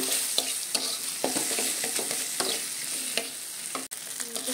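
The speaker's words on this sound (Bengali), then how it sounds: "রসুন বাটা, আদা রসুন বাটা। এগুলো এখন আমি ভালো করে কষিয়ে নেব।" Meat frying with ginger-garlic paste sizzles steadily in a pan, with repeated scrapes and taps of a spatula as it is stirred close up.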